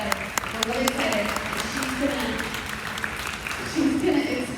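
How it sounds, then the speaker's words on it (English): Audience applause for Mrs. Bonner at a Central Catholic new student orientation: a moderate burst of clapping from a gathered crowd, with a voice talking over it. "can we just give Mrs. Bonner a round of applause?"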